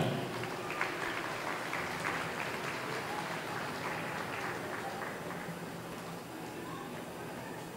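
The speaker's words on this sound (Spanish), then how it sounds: "Y ese aplauso para esta familia." An audience at a farewell event for bands in Santa María Tepantlali applauds a donor family, with dense continuous clapping from a crowd that slowly fades.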